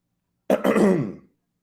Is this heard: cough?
yes